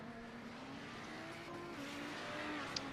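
A GT race car engine strains as it pulls away from the line, a rising mechanical drone under steady background noise, moderately loud throughout.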